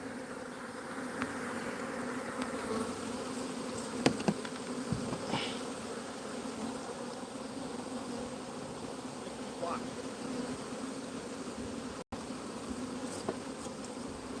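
Honey bees buzz around a swarm, a steady, close droning hum with a few brief louder passes as individual bees fly near.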